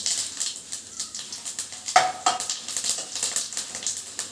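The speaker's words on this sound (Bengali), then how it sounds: "গরম তেলে আমি কিছুটা তেজপাতা কিছুটা জিরে ফোড়ন দিয়ে নিচ্ছি" Bay leaf and cumin seeds tempering in hot oil for a chicken kosha, giving a steady close crackling sizzle with a few brighter pops and light utensil scrapes, no talking.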